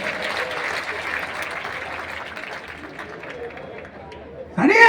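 A crowd at a live comedy show in Firozabad claps in a broad, steady burst of applause that slowly tapers, before a loud voice cuts in abruptly at the very end.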